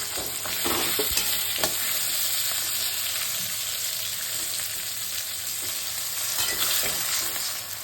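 Raw tamarind and thin-sliced ginger stirred into hot oil with dried red chilli and five-spice in a pan for a sour vegetable dish, a loud steady sizzle with scraping stir strokes throughout.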